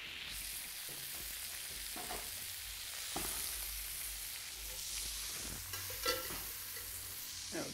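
Meat frying over high heat with its fat rendering out: a steady, bright sizzle and crackle with occasional spatters and stirring clatters, close and continuous, no talking.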